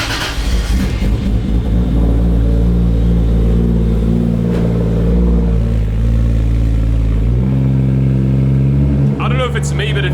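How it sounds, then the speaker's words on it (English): A 450 hp 1JZ Toyota Chaser running on ethanol fires up from cold with a loud, close, throbbing idle, the engine note shifting and settling partway through, and a voice briefly heard near the end. "here's a cold start for you guys"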